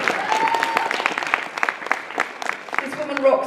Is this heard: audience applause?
yes